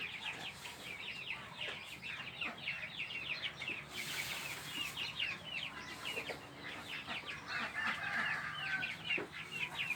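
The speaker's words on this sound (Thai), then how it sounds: "พี่ดนให้อาหารไก่" A flock of bantam chickens clucks and chatters continuously at feeding time, many overlapping calls at moderate distance, fairly quiet with a busy, restless rhythm.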